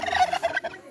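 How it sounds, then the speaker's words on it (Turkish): Village turkeys on a farm give quick, fluttering gobbles in a short burst of several rapid calls, close and fairly clear with no talking. "Hindilerimizi göstereyim."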